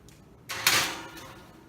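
An oven door closes after a tray of Puerto Rican polvorones goes onto the middle rack, giving a single close, moderately loud thud with a short, bright clatter that fades quickly.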